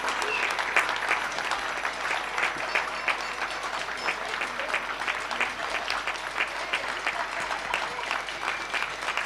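Crowds applaud health care workers from their windows, a dense, continuous clatter of clapping that carries steadily, with voices faintly mixed in.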